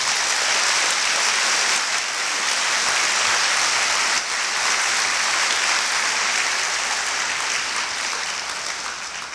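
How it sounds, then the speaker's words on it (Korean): Sustained applause from a large audience at a POSTECH university presidential inauguration ceremony, welcoming the outgoing fifth president; steady dense clapping fills the hall alone for about nine seconds, fading slightly at the end. "많은 박수로 환영해 주시기 바랍니다."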